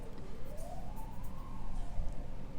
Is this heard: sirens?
yes